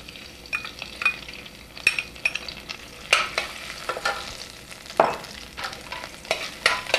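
Garlic and ginger frying in vegetable oil: a steady low sizzle broken by sharp clinks and scrapes of a utensil stirring in the pan, with no talking.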